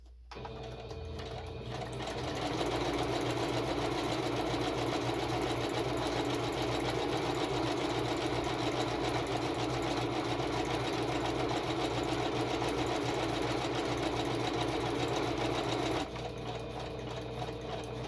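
A sewing machine stitching continuously at a steady fast rate for a long stretch, close and even, starting and stopping with brief pauses at each end, no talk.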